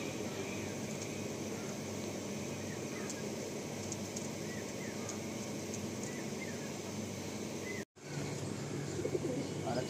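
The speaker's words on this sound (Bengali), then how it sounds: "এই পায়রা প্রচুর ওড়ে, খুব একদম সুন্দর ওড়ে।" Tiger line pigeons at a loft coo and call steadily in a dense flock, a continuous near murmur with faint chirps, cut by a brief dropout near the end before the cooing resumes.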